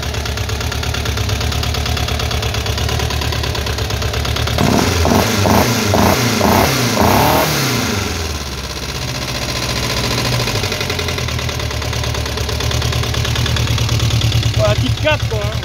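A VW Beetle fitted with a Type 4 engine idles steadily just after its first start, a continuous mid-pitched rumble that swells into a brief revving patch midway before settling back, with people talking over it.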